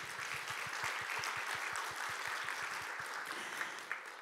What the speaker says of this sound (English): Please give a big round of applause once again.